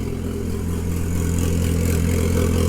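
A freshly built Nissan SR20 engine in an S14 running on first start, very loud, a continuous close, rough drone with a steady pulsing idle and no talk over it.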